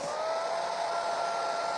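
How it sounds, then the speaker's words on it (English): A steady, airy whir of a hairdryer blowing, continuous and close, with a faint tonal whine. "Quick little hit with the hairdryer."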